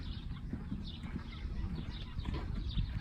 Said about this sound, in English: My wife and I just picked up another horse about a week ago.